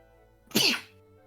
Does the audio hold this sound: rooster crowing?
no